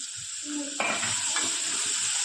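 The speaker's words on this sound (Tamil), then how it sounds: "அப்புறம் நல்லா வதக்குங்க" Grated carrot and curry leaves sautéing in a pan sizzle loudly up close, with a sharp burst of frying as they are stirred and a steady hiss continuing after, no talking.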